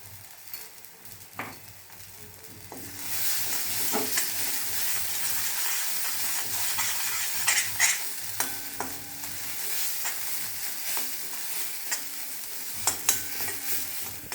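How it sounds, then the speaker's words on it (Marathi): Ginger, garlic and masala sautéing in oil in a pan, a continuous close sizzle that swells after the first few seconds, punctuated by sharp spoon stirring knocks. "आता हे थोडंसं तेल सुटस तोपर्यंत परतून घ्यायचं"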